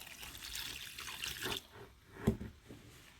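Water pours briefly into powdered fermented corn for a corn-dough meal, a soft close trickle with a small splash near the end.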